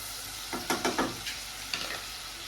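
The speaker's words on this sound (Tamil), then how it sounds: "நல்லா வதங்கட்டும்." Food is sautéed in a pan with a soft steady sizzle, marked by a quick run of scraping stirs and another scrape a moment later.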